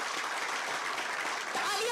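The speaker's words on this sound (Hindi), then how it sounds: "तालियां थोड़ी कमजोर लग रही मुझे, जोरदार तालियां होनी चाहिए" Steady applause from an audience at a ceremony in Jharkhand for handing out job appointment letters, a dense continuous clapping that swells slightly near the end.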